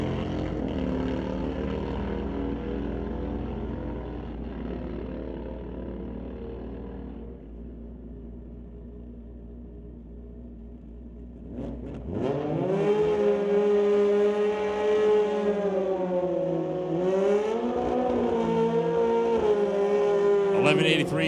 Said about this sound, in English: Lowrider running down track.